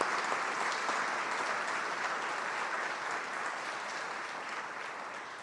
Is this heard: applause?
yes